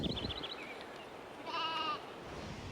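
A lone sheep bleats once, short and fairly faint, on a quiet stretch of trail on the edge of Vilnius, with small bird chirps and a soft outdoor background.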